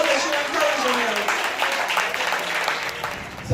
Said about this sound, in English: give all of them a hand clap